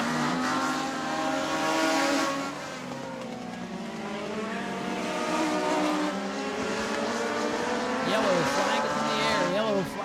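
Race cars roar around the Auburndale speedway during a weekly racing event, engines droning loud and steady with rising and falling pitch as cars pass, under continuous commentary from an announcer.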